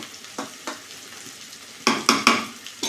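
A lentil and taro stolon curry sizzles steadily in a pan while a spoon stirs it, giving two soft scrapes early on and then a quick run of three louder scraping strokes near the end.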